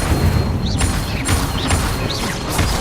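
Incendio fire spell cast in Hogwarts Legacy on PS5, heard as repeated booming bursts and whooshing flares over a dense game soundscape, with swooping magical tones recurring every second or so.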